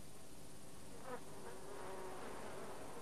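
Old World leafcutter bees buzz near alfalfa fields, faint wavering insect drones rising and passing over a steady outdoor background, with no voices.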